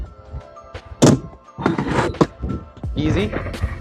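A hard thunk as a Standard Omni inline skate lands on a rail, followed by scraping and a nearby voice talking.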